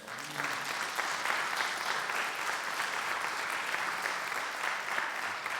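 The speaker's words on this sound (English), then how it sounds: "Let's give him a round of applause for that." Round of applause from an audience at a foundation event, sustained even clapping at moderate distance with a faint voice at the very start.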